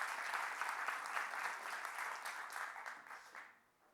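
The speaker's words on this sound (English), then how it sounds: "I think we can give him a round of applause." Sustained audience applause at the Ledger Op3n 2022 developer keynote in Paris, a dense steady clatter of many hands that carries on for several seconds before tapering off and thinning out at the end.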